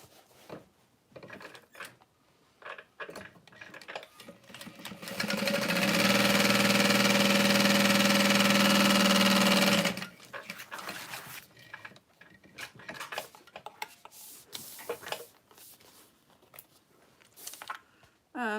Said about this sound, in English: I'm going to sew all the way along the bottom